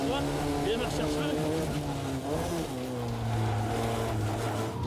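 F1600 open-wheel race car engine pulling hard in fourth gear at speed, a steady loud droning whine with shifting harmonics throughout, wind rush over it.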